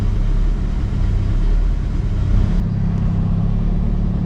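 A boosted, turbocharged Toyota MR-S engine idles steadily up close, a loud continuous low rumble with a constant mechanical hum and no voices.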